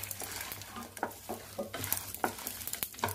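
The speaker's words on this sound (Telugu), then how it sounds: "అన్నీ బాగా దోరగా వేయించాలండి. కమ్మటి వాసన వచ్చే వరకు వెల్లుల్లి వేస్తున్నానండి." Garlic cloves frying in a pan for a Telugu podi recipe with ash gourd, giving a steady crackling sizzle with repeated stirring scrapes and taps of a spoon against the pan, close and fairly quiet.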